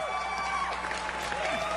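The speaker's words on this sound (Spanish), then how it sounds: "¡Mire, aplauso!" Studio audience applause during a talk show, a short patter of clapping mixed with faint crowd murmur and a few tonal sounds, at moderate distance.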